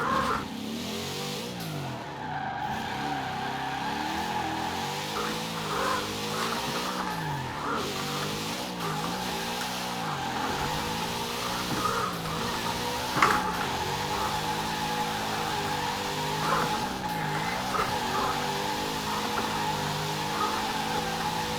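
A car driven fast close to a wall: a steady engine drone runs throughout while repeated tire squeals rise and fall in rhythmic swoops, loud and close, with a single sharp knock partway through.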